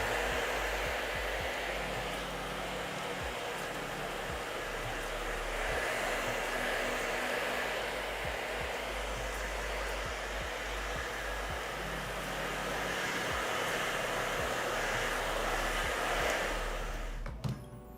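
A hair dryer blows a constant loud, airy roar while heating hair styled with oil-based pomade, running alone and steady throughout before cutting off at the very end.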